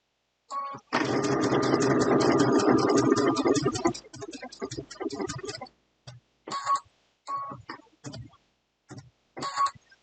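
A sewing machine stitching machine applique runs in a steady fast whir for about three seconds, then gives several shorter stop-start bursts of stitching, close up with brief pauses between.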